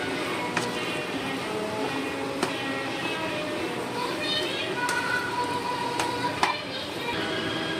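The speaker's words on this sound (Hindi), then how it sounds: "आनी आतां हें चिकन आहा तें एड कोती तो आनी हेका मिक्स करून घेता" Chicken is stirred into masala in a pan, a steady sizzle with occasional sharp clicks of a utensil against the pan, moderately close, with a voice talking throughout.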